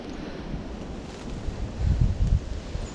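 Wind gusts roar through dense woods on public hunting ground littered with blowdowns, a steady low rush that swells into two stronger blasts near the end, with no voices.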